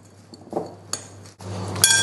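Smoked paprika and other spices stirred together in a bowl, with a few sharp clinks of a utensil against the dish amid soft scraping, close and fairly quiet.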